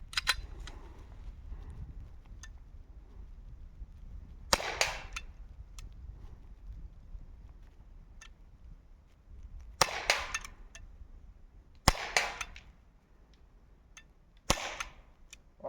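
Several sharp, snappy shots from an Umarex Glock 17 Gen 5 airsoft pistol ring out alone at irregular intervals, separated by quiet pauses with faint background noise.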